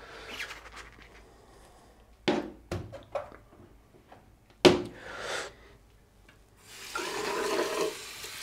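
Face being washed with soap under running water at a bathroom sink, with splashing, rubbing and brief sharp bursts, then a steady stream of running water near the end, no talk.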